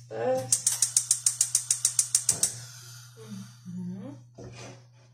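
A gas stove igniter clicks rapidly about fourteen times in an even burst, then the flame catches with a soft whoosh, and a voice speaks afterward.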